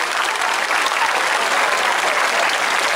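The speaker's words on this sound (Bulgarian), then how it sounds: "Аплодисменти за всички тези ръководители и за всички музиканти, станали част от нашия фестивал" Audience at a brass band music festival finale in a village square applauds festival leaders and musicians, a steady dense wash of clapping from a crowd, continuous and fairly loud throughout.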